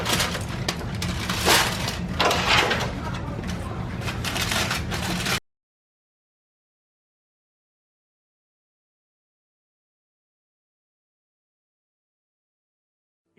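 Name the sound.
unwrapping foil from grilled BBQ spare ribs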